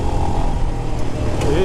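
A Royal Enfield Himalayan motorcycle rumbles steadily and close while being ridden and shifted down a gear, with a rider talking over the engine.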